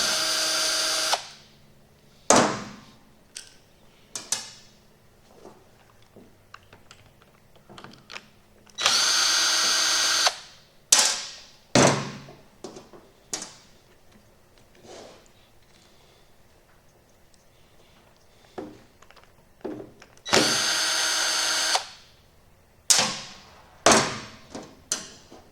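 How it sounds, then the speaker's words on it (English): Power drill spinning out Torx bolts that hold the shift solenoids on a 2006 Dodge Ram 48RE automatic transmission during a rebuild; three loud, sustained whirring bursts stand out, separated by clinks, taps and handling of parts. "we're gonna pull our 3 Torx bits out that hold the shift"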